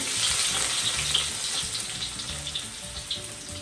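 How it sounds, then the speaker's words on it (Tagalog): Garlic sautéing in a hot pan of oil while chicken afritada is being cooked, giving a steady, close, fairly loud sizzle and crackle with no speech. "magigisa na tayo ng bawang."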